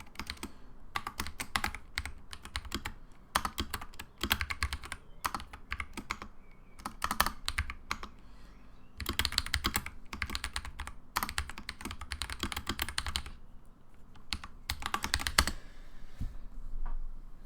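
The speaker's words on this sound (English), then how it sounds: "I can't type apparently." Fast typing on a computer keyboard during game development, with dense bursts of close, crisp key clicks broken by short pauses, steady and clear from start to finish.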